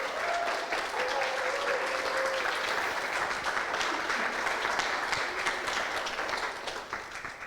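Steady applause from an audience at a coding bootcamp demo day fills the space, dense clapping that holds constant for several seconds before easing slightly at the end.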